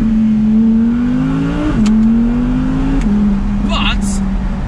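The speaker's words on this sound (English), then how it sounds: "it has applied a slightly muffled effect to the exhaust character" Exhaust note of a 2019 Audi R8 V10 Performance heard from the cabin with the windows down, a steady muffled engine drone that rises slightly and then settles, with faint whirring and a few brief higher sounds near the end.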